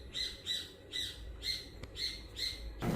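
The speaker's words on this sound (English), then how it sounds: "Shut up, bird." Bird squawks outdoors, with six or seven loud, harsh calls in a regular rhythm and a short noise at the end.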